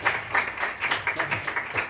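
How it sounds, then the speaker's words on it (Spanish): Steady applause from a jazz concert audience, a dense patter of many hands clapping at a lively, even pace. "Fuerte el aplauso."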